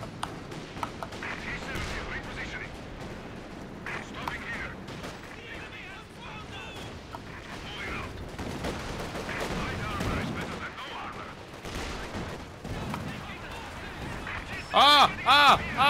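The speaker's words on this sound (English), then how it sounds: "Taking hits from the pack howitzers." Pack howitzer artillery fire in a World War II strategy video game, with repeated booms and explosions scattered through a busy battle soundscape, a player talking over much of it, and a sharper burst of rapid fire near the end.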